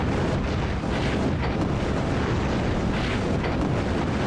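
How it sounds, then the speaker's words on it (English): Loud explosions rumble in the Project Nomads video game as a dense, continuous roar with overlapping blasts and no clear pauses. "the explosions do get a little loud in this game"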